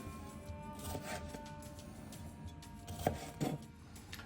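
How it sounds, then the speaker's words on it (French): A knife cuts tomatoes in half on a board, a few soft, quiet chopping taps spread across a low kitchen background, with two firmer cuts near the end. "Les tomates, je les coupe simplement en deux."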